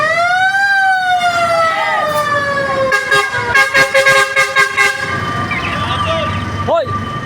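A fire truck's siren wails close by on a street, a loud rising-and-falling tone joined by a burst of rapid, stuttering horn blasts, with people talking over it.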